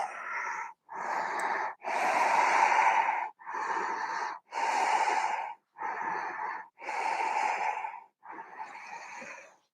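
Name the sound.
deep breath in during yoga pose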